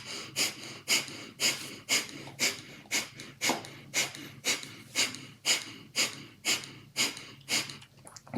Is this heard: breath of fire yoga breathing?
yes